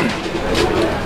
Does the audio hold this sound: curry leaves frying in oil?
no